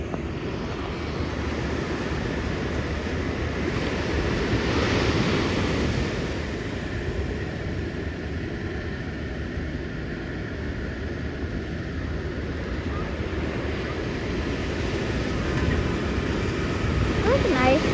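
Big ocean waves breaking at Aliso Beach make a steady, broad roar of surf with slow swells in loudness, heard from a distance along with wind buffeting the microphone.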